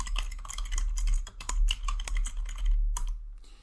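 Close, crisp keystrokes clatter on a computer keyboard as a command is typed, in irregular quick bursts with brief pauses between them.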